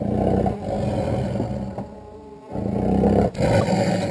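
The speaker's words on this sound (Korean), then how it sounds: "회복된 호랑이는 울음소리가 우렁찬 것으로 보아 건강해 보입니다." A rescued, recovered tiger in the wild gives loud, rumbling roars close by, one long roar followed by a short pause and then another.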